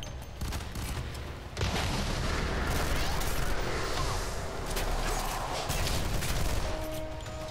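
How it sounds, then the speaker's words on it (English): Grenade explosions and heavy gunfire fill a firefight in the co-op shooter video game Fear 3, a dense, loud barrage of booms and blasts running throughout. "Oh god, grenades!"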